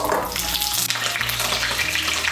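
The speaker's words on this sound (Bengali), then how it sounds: "তেলটা গরম হয়ে গিয়েছে, এর মধ্যে পটলগুলো ভেজে নিচ্ছি।" Pointed gourds (potol), peeled and slit, frying in hot mustard oil, a loud, steady, close crackling sizzle with no talking.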